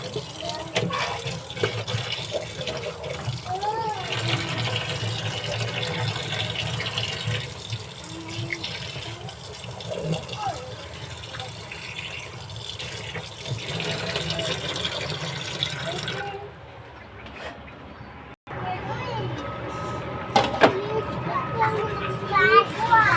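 Tap water runs steadily while freshly cut fish is washed. Voices talk over the flow, which dips briefly before running again.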